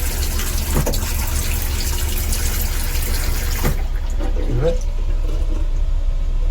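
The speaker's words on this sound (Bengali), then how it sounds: "এটা হ্যান্ড ওয়াশের জায়গা। পাম্প করলে জল বেরোয়।" Water gushes from a hand-wash pump in a Volvo bus washroom, a loud steady rush close by that cuts off partway, leaving a quieter hum with a voice speaking.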